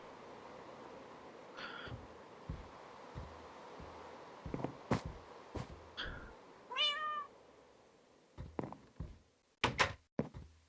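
Minecraft cat meows in a quick rising series amid faint ambient hum, bracketed by several sharp knocks and thunks from a wooden door closing, all fairly quiet and close.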